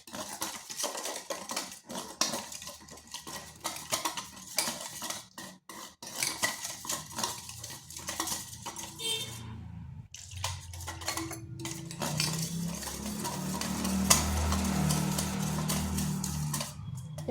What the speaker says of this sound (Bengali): এরপর অল্প অল্প জল দিয়ে একটা ব্যাটার তৈরি করব।